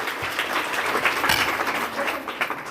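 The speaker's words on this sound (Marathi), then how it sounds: "द्या की टाळ्या स्वतःसाठी" Applause from a women's day gathering audience in Maharashtra fills the space, a dense, loud wash of many hands clapping steadily throughout without a break.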